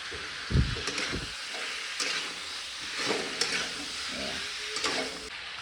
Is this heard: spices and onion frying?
yes